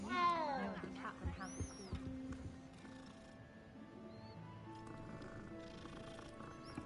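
A cat in the video game Hogwarts Legacy gives a brief meow, then soft purring and quiet rustling carry on at low volume beneath faint game ambience.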